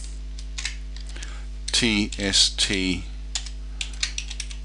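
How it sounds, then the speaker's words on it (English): Computer keyboard typing while someone enters a short line of code. Sparse, light clicks are scattered across the clip around a spoken word in the middle, with a steady low hum running underneath. "Watch the keyboard while I'm typing."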